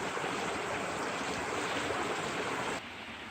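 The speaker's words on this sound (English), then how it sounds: "this is definitely a low flow creek" A low-flow mountain creek in a North Carolina state forest makes a soft, steady rushing and gurgling of water, constant and fairly faint, with no voices.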